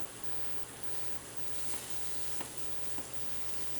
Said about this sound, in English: Here we got the chicken here, still sizzling away.